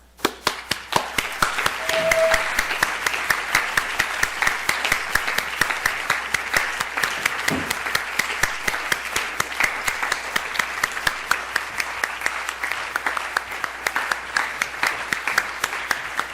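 Steady audience applause at a Catholic university academic symposium, rhythmic and sustained for over fifteen seconds, with sharp individual claps standing out close by over a broad crowd wash and no speech.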